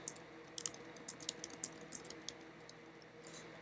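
Fingers tap quickly on a computer keyboard, producing a quiet, irregular run of close clicks with short pauses between bursts.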